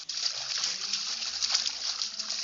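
Steady splashing and sloshing of water as a character swims in a video game, continuous and fairly loud with no speech over it.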